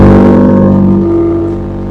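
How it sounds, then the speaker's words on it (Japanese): A Suzuki Wagon R MH21S/MH22S kei car fitted with an aftermarket muffler idles loudly and close after starting, a strong low harmonic engine drone that settles and fades a little over two seconds. "で、エンジンかけます。"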